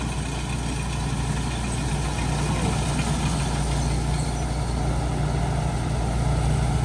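A truck engine idles and pulls steadily in eighth gear while hauling a load on a rice farm, a continuous close, loud low rumble with no break across the whole stretch.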